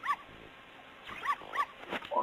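A dog barks in The Legend of Zelda: Ocarina of Time, with several short, clipped synthesized yaps in quick bursts separated by brief gaps, clear and up front with no talk.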